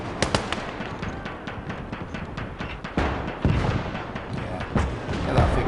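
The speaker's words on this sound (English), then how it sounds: "That's the mortars firing out to the fields." Mortars firing out over fields in a WWII video game set during the Russian Operation Mars battle: a dense stream of sharp bangs and thumps, some near and loud, others distant, layered over continuous rumbling battle noise.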